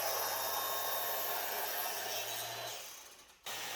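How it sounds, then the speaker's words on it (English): A power saw runs steadily while cutting grooves into a wooden trim frame, a loud, even whine that trails off and dips before briefly cutting out near the end. "I will cut grooves into the trim frame so the decorative plywood can slide in."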